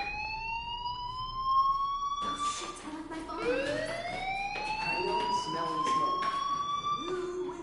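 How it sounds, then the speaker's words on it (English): A fire alarm rings in the Life is Strange video game, with rising, wailing siren tones that repeat and overlap with other game sounds at moderate loudness. "Hey, do you hear that fire alarm?"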